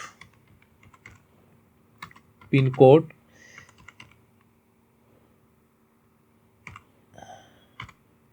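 A PIN code typed on a computer keyboard, as scattered soft key taps with one louder burst of clicks, close by over a quiet background with a faint hum.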